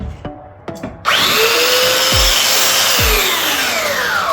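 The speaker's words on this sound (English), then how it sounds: "So I'm going to sand all these pieces down quick." Electric sander powering up and sanding wood pieces for an RV dinette-to-desk conversion, a loud steady high whine after a few short knocks, continuing alone with rubbing scrapes against the wood.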